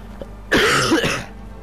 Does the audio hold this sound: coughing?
yes